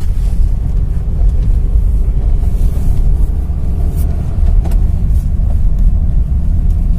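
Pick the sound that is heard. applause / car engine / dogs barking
car engine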